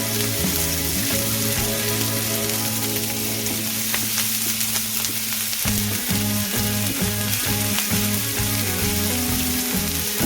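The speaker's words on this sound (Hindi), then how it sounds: "स्लो पे पकाना है ताकि जो अदरक और लहसुन है वो अच्छे से पक जाए" Ginger and garlic fry over slow-medium heat in a pan, a steady close sizzle running throughout with a low droning hum underneath.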